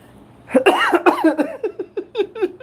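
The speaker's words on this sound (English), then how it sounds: "that is not corona cough" A burst of coughing with a sharp rasping start, followed by a series of shorter, rhythmic hacking coughs, close to the microphone.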